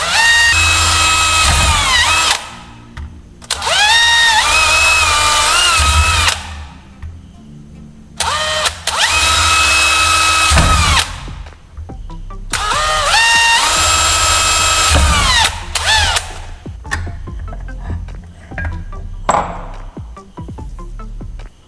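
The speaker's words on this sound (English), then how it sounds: "My goal here was to drill holes at those 4 mark points." A power drill whines through thin flattened metal pipe in four loud, separate bursts, each a few seconds long with rising pitch, separated by quiet pauses and faint handling noise.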